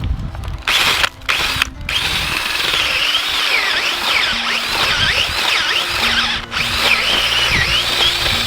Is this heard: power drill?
yes